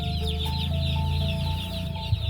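Young chickens cluck and cheep steadily in a nursery brooder, a dense close chorus of small birds with no voices over it.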